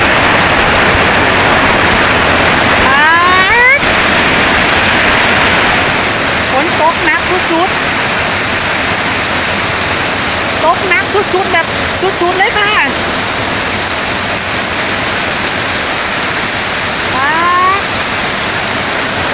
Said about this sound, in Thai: ฝนตกน้ำไหลหลวดหลวดเลยค่ะ